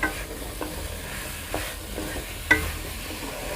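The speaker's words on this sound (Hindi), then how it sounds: "इसको अच्छे से चलाते रहेंगे इस तरह।" Potatoes frying in a pan are stirred with a spoon, giving a soft steady sizzle punctuated by a few faint scraping knocks.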